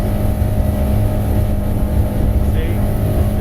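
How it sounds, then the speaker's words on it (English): A 2020 North River 21-foot Fastback boat engine held at high revs near its rev limiter, a loud, steady, close drone with a constant tone throughout. "if I want to hit that rev limiter, I can trim it up a hair."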